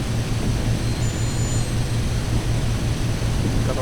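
A DC-2 airliner's piston engines drone steadily during takeoff in a flight simulator game, a constant throbbing hum with a faint high whine, heard alone without talk.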